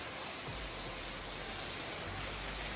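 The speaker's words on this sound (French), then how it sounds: "Oh la cascade!" A small waterfall on an outdoor path in northern France gives a steady, soft rush of falling water that stays even and unbroken throughout, with no voices over it.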